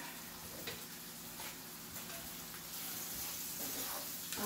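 Finely chopped garlic browning in a hot pan, a steady dense sizzle and crackle that holds evenly throughout without talk.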